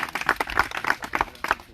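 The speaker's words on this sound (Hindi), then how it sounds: "हाँ, एक बार ताली बजाओ जोरदार।" Audience clapping loudly at a Hindi motivational talk, sharp, rhythmic hand claps at roughly even intervals, close and fairly loud.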